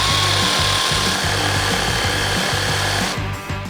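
A saw with a dull blade cutting, likely wood, a harsh rhythmic rasping of steady back-and-forth strokes, loud and close, running continuously before easing off at the end.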